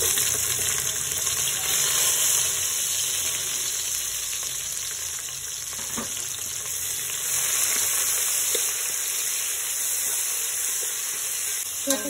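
Sliced onions with cumin, bay leaf and cloves fry in hot oil for a Bombay-style chicken biryani, giving a loud, continuous close sizzle with occasional stirring and no voices.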